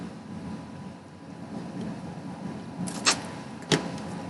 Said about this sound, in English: It's the aircon in the background.